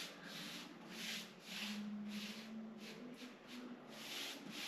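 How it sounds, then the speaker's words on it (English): Soft, rhythmic rubbing strokes of a brush applying wood stain along the grain of a wooden garden planter, quiet and close, repeating about once a second with no talk. "Just gently brush up, keeping it light, not too heavy."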